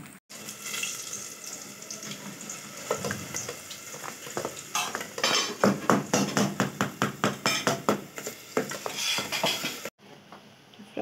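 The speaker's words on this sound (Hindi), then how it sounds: "फ्राई हो रहे हैं।" Andarsa, sweet fried rice-flour cakes, frying in hot oil, a dense steady sizzle with a burst of rapid bubbling and crackling in the middle, then a brief pause and quieter frying at the end.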